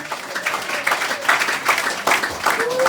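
A church congregation applauding during a sermon, a steady patter of clapping hands that swells in bursts and runs throughout, with a voice faintly audible over it.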